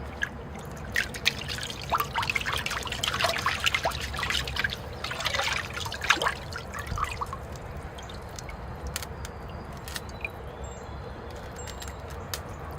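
Field maple bonsai roots dunked and worked in a tub of water, giving steady trickling, dribbling and dripping sounds with busy splashes early that thin out into sparse drips.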